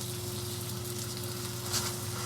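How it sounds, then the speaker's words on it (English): Ginger sizzles in sesame oil in a pot over moderate heat, a steady close frying hiss with fine crackles, accompanied by a low constant hum and no talking. "I just want to get it sizzling and kind of infuse some of the ginger flavor into the oil almost."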